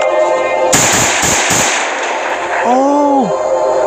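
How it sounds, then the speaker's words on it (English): Pistol shots in the survival video game Last Day on Earth: Survival, three sharp loud bangs in quick succession at the start, followed by a brief creature-like cry. "We can kill this toxic spider by just using a pistol."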